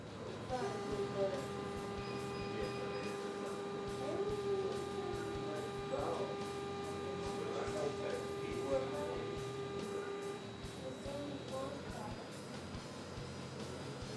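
A MakerBot Replicator 5th Generation 3D printer homing its axes: soft stepper-motor whines that glide up and down over a constant electrical hum, with a rapid regular ticking late on, faint and close, with talking over it.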